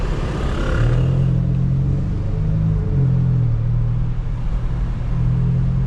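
A Volkswagen Jetta engine rumbles steadily at night with a deep, continuous low drone and a slight rise in revs, loud and close, with no voices.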